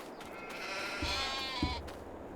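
A sheep bleats in Farming Simulator 22, a drawn-out wavering cry at moderate distance, with a short second bleat near the end over a quiet background.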